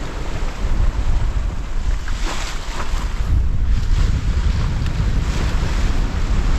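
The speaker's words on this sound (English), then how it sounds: "Getting out into the open ocean now," A sailboat moves through open ocean swell, with a continuous loud wash of waves and water against the hull and heavy wind buffeting the microphone.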